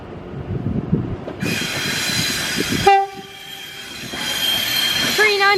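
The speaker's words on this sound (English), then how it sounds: "As another class 390 is now departing." A Class 390 train pulls away from Crewe station, starting with a low rumble, then a bright whine from the traction motors. Sharp rising squeals follow, close and loud, over steady track noise.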